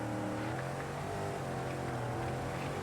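A rally car engine in the Dakar 18 video game drones steadily at high revs, loud and continuous, with a dense buzzing tone throughout.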